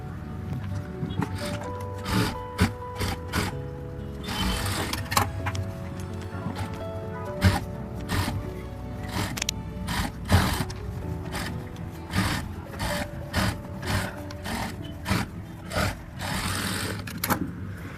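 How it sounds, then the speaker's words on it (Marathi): A sewing machine stitches a blouse sleeve with a half-inch seam, its motor whirring in short bursts of rapid needle clatter with pauses between runs, close by. "सेंटरकडूनच मी ही अर्धा इंचावर शिवत आहे"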